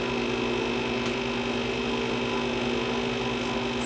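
A freeze dryer's vacuum pump runs steadily while jars are pressurized, giving a constant droning hum with no pauses or talking.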